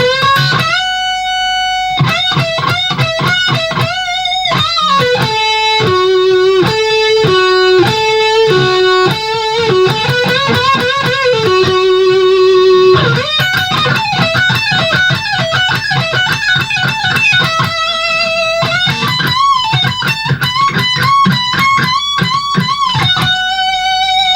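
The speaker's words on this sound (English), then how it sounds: "teaching you the guitar solo" A wailing distorted electric guitar solo from a song plays alone, bending and sustaining notes with quick runs between them, loud and steady throughout.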